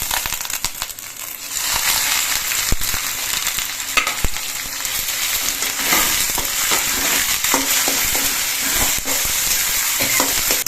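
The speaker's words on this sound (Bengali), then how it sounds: "এবার কুটলিটা নেড়ে তেড়ে পেঁয়াজের সঙ্গে ভালো করে কুদরি পেস্টটা নেড়ে চেড়ে পেঁয়াজের সঙ্গে বেশ ভালো মতো মিশিয়ে দিয়েছি" Kudri paste frying with golden fried onions in hot oil makes a loud, continuous sizzle with dense scraping and stirring clicks throughout, no speech.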